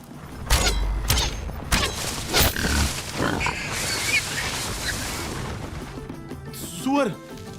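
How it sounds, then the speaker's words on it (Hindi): A wild boar grunts and squeals during a hunt scene in Baahubali 2, with sharp impacts and commotion around it and a rising squeal near the end; people talk over the noise. "सुअर"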